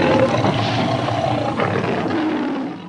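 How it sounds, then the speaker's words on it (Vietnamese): A lion roars in one long, rough, breathy rumble lasting nearly three seconds, loud and up close, fading slightly at the end. "Con sư tử."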